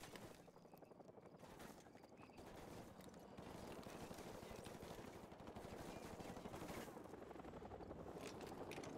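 A helicopter flies overhead in Call of Duty MW Remastered: a steady, rapid rotor chop with dense continuous pulsing that grows slightly louder, mixed with battle noise.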